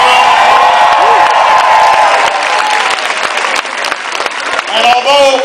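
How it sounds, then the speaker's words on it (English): A rally crowd in Mansfield, Ohio, gives former governor Ted Strickland a big round of applause. Loud, dense clapping and cheering carry on throughout, with whoops and shouting voices mixed in. "Give Ted a big round of applause"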